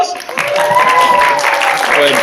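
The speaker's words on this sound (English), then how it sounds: "Everyone give TJ a round of applause." Audience applause at a live science-themed gaming show, steady clapping from a crowd mixed with cheering voices and a tonal hum beneath it.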